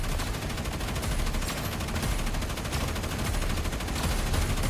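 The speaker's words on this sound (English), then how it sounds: "Now this is suppressive firepower!" Rapid suppressive gunfire from the video game Terminull Brigade sounds as a dense, continuous barrage of shots, loud and unbroken throughout.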